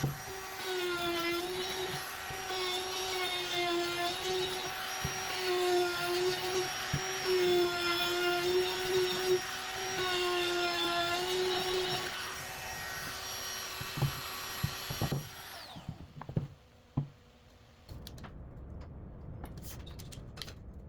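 A power tool, likely a router, rounds over the edges of wooden braces for home theater speaker enclosures, whining steadily and loudly for about fifteen seconds before stopping, followed by a few scattered clunks and handling noises.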